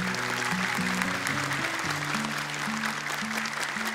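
Studio audience applause on a televised children's Quran memorization competition, a steady wash of clapping blended with sustained background music tones throughout.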